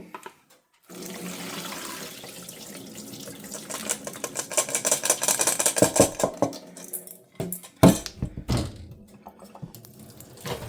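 Tap water gushes and splashes in a sink as beans are rinsed, with clattering of a metal strainer or pot and intermittent bursts as the flow shifts.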